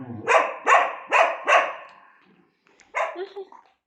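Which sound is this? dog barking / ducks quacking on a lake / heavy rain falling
dog barking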